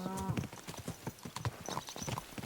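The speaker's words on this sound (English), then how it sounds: "Watch out with that horse!" Horse hooves clip-clop in an even walking rhythm in the video game Kingdom Come: Deliverance II, close and moderately loud, with a person's voice and a brief whinny-like tone near the start.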